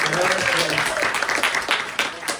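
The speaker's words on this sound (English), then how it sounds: "let's give a round of applause for the musicians that work so hard to do the work" Audience at a close-up and parlor magic show applauding the musicians, a dense burst of clapping that thins out, with voices and a brief tonal sound blended underneath.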